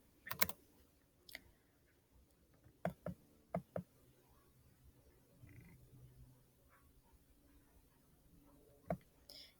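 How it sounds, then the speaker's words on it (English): Keystrokes on a computer keyboard while entering answers on an order-of-operations worksheet, heard as sparse clicks in short clusters over a quiet room, close and moderately loud. "So I'll go back here on the worksheet, and I will type that in."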